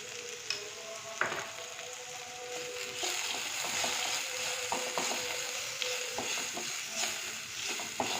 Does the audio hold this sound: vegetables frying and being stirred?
yes